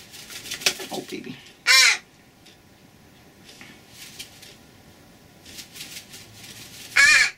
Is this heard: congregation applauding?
no